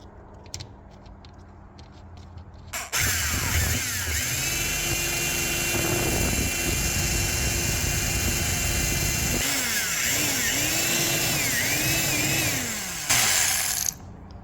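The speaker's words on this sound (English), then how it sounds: "My drill is also from like the 1800s, so it's not the greatest thing to use" A very old electric drill used during decal removal on a Toyota pickup whines loudly and steadily for about ten seconds, its pitch dipping and recovering several times as it is pushed against the surface.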